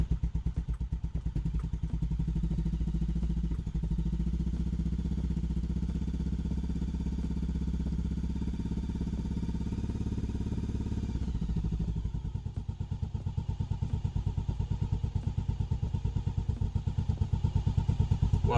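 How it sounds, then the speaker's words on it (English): A motorcycle engine, freshly refilled after an oil change, runs at a steady idle close by, its loud even throb easing into a lumpier, pulsing beat near the end. "At this point, you're going to want to start the bike and just let the oil run through."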